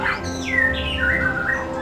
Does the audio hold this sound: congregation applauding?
no